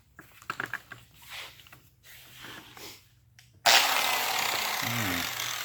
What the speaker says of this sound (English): now we're gonna grab our flat disc and get that bad boy on there and get it smoothed out better too